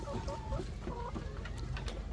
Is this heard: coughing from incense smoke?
no